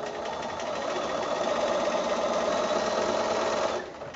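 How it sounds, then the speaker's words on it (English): A sewing machine runs steadily, stitching a seam on a pinwheel quilt block made from 5-inch squares, its even motor whir and needle rattle continuing alone for nearly four seconds before easing off at the end. "Sew this seam."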